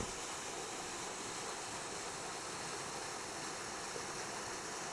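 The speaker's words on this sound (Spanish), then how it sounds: "El río, pues, sigue su curso" A large river in the Iberian basin flows steadily, a continuous broadband rush of water at even volume throughout with no voices.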